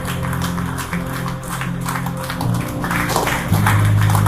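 An audience claps steadily through a motivational speech event, a dense, continuous applause with no voices over it.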